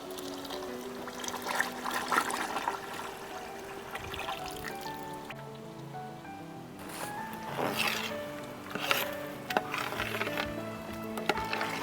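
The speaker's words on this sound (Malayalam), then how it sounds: "ഇനി നമുക്ക് നെയ്യ് ഒഴിച്ചു കൊടുക്കാം." Ghee poured into carrot halwa, about three liters into the pan, gives a steady trickling, sizzling pour that carries on for several seconds.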